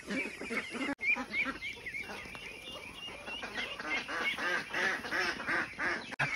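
A flock of domestic ducks on a farm quacks in dense, overlapping bursts while feeding, steady and close throughout.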